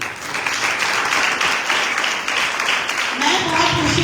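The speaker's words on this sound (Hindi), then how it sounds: "प्रेज गॉड, तालियां बजाएं अपने लिए।" A church congregation claps for itself during a worship service, a thick sustained burst of many hands with a voice rising over it near the end.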